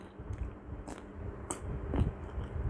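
Crunchy raw golden Nam Dok Mai mango bitten and chewed up close, three or four crisp bites over steady wet chewing.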